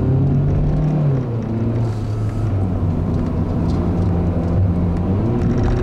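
Engine of a 2014 Hyundai Accent SE straining while climbing a hill, a steady loud drone with a low rising and falling pitch and road rumble, continuous throughout and no voices.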